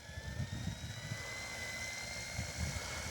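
Spooling up in normal mode, an OMP Hobby M2 V3 Pro RC 3D helicopter gives a steady, rising whine of motor and rotors, with a constant high-pitched hum and low pulsing throb, sustained and fairly close throughout.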